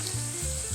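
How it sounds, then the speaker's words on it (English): Garlic, onion and pepper fry in olive oil, a brief close sizzle with a steady hiss and low crackle, no voices. "olive oil going, and I'm going to drop in the garlic."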